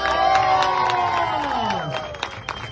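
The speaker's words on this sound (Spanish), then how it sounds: "Y si les gustó, para ustedes los aplausos." A crowd claps, cheers and whoops after a live rap performance, loud and sustained, with excited shouts and high voices rising through the noise.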